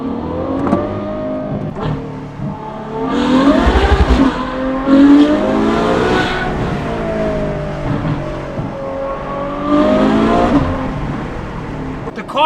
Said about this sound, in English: Having the valve flexibility means you've got no drone, no unwanted frequencies, just the ultimate Ferrari F1 sound.